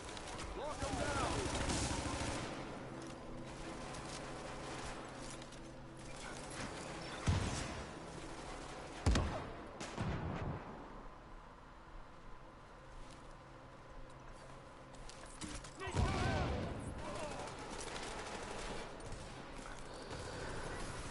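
Heavy gunfire in The Division, a tactical shooter: several loud bursts of rifle fire at irregular intervals, with sharp cracks standing out over a steady din of combat noise and background chatter from players.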